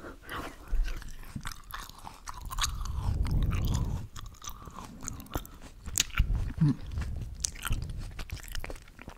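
Close, wet chewing and soft crunching of a black olive, with irregular bites and mouth sounds and no talking.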